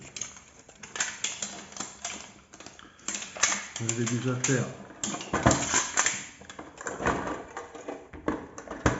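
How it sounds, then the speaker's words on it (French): Crisp snipping and crinkling of scissors cutting through a thin aluminium can, a series of sharp irregular cuts close by, with a person talking briefly. "l'aluminium, ça se coupe très bien avec des ciseaux"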